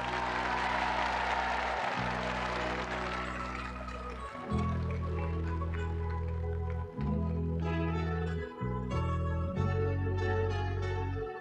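A television studio audience applauds a singer at a 1985 music show. The applause is strongest at the start and fades as loud band music with a heavy bass line takes over.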